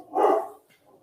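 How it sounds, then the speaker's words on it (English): A dog gives a single loud bark close by, a short burst that fades to quiet in about half a second. "Sorry, that was my dog barking in the background."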